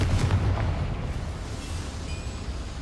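A Confringo spell bursts with a deep explosive boom in Hogwarts Legacy, loudest at the start and then fading into a rumbling tail with a faint ringing tone.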